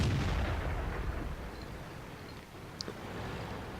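A tank cannon shot from the T-43 in World of Tanks: a deep, heavy boom at the start that rolls into a low rumble under engine drone, with a faint higher ping later.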